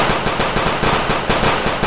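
A blue-and-black toy AKM-47 assault rifle blaster firing a rapid, steady stream of loud clicking shots, close up and continuous with no talk.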